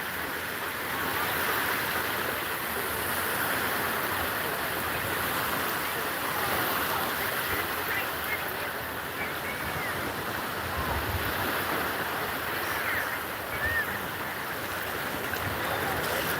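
Surf washes onto a crowded beach as a constant broad roar mixed with wind buffeting the microphone, steady and loud throughout without clear voices.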